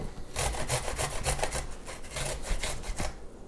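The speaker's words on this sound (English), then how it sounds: "I'm just gonna kind of rip it through" Garlic is grated on a kitchen grater in a rapid series of scraping strokes, fairly quiet and close, with no talk.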